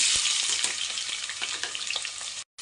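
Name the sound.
onions frying in hot oil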